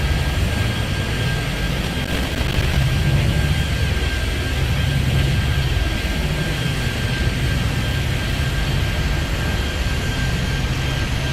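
A jet airliner roars down the runway on takeoff in the airport-control game Airport Madness, a loud, steady engine rush sustained throughout with no voices.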